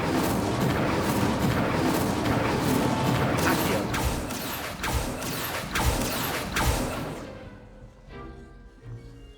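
Repeated Incendio fire spells cast in Hogwarts Legacy: a loud run of booming, crackling blasts that hit in quick succession, then fade away to near quiet near the end.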